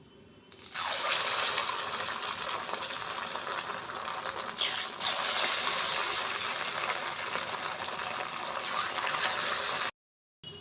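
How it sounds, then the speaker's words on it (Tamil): Small balls of leftover rice bonda batter frying in hot oil, a steady close broadband sizzle holding from the first second to the end, with a brief drop out near the close. "நம்ம சூடான ஆயிலில் சின்ன சின்ன போண்டாவாக போட்டு எடுக்கலாம்"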